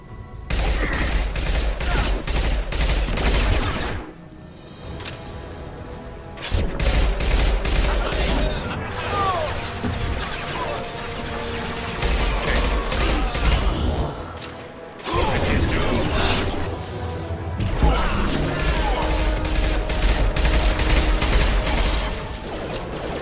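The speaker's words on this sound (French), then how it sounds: "Ah, d'une grosse précision, hein, la mitraillette." Bursts of machine-gun fire during a firefight in the video game Mass Effect 2, loud and dense, coming in long volleys with short pauses, mixed with mechanical clatter and occasional voices.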